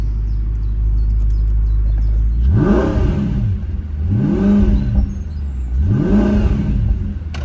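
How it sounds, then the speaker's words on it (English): A 2008 Audi R8 Mk1 with a 4.2 V8 and manual gearbox idles, then its open exhaust barks through three sharp, loud revs that rise and fall in a regular rhythm close by. "And let's just turn the exhaust on."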